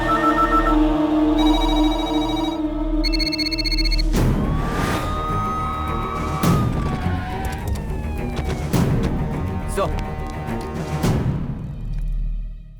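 A telephone rings loudly over a dramatic music score, the ringtone standing out briefly before fading into swelling orchestral sounds.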